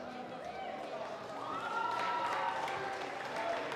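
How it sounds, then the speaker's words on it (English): A crowd claps and cheers in a large, echoing space at a youth bouldering competition final in Kaunas, the applause swelling midway and holding steady. "Give finalists a big applause."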